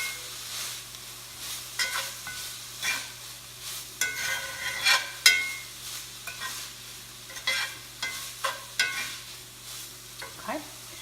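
Cheeseburger mac mixture with garlic being stirred in a pan, a soft sizzle under repeated scraping strokes of a spoon, irregular and close, with brief metallic knocks.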